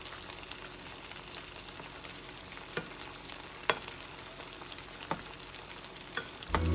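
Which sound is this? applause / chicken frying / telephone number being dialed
chicken frying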